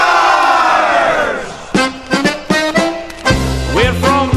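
Recorded chant of Pittsburgh Steelers football fans, a loud crowd of voices singing and shouting rhythmic bursts, with horn-like blasts joining toward the end.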